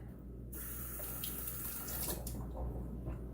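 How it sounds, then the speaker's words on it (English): Tap water runs steadily into a kitchen sink as mushrooms are drained for chili, a continuous close splashing stream with no talk. "Now drain mushroom."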